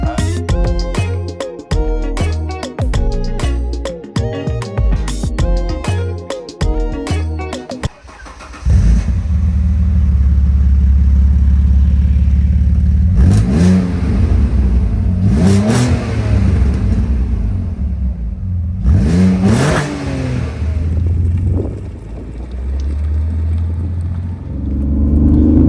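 Alfa Romeo 147 GTA with a V6 engine, heard first under loud music, then roaring near and loud as it accelerates, with repeated rising rev sweeps and gear changes.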